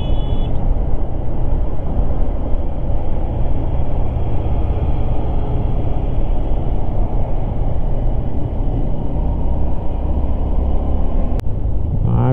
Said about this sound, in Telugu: మామూలు ట్రాఫిక్ లేదు, చాలా హెవీగా ఉన్నాయి.